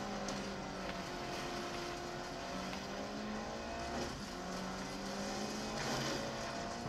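A Ford Cosworth in Watch Dogs: Legion drives with a steady engine drone and rising harmonic sweeps as it revs through gears, held close and continuous throughout.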